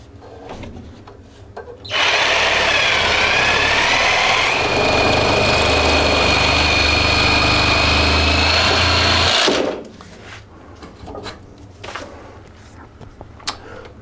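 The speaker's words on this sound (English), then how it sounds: "I'm gonna go ahead and cut this pipe, kind of this vicinity" A power saw cuts through a plastic drain pipe during a double-sink bathroom remodel, running loud and steady for about eight seconds with a whining pitch, then stopping, followed by quiet handling sounds.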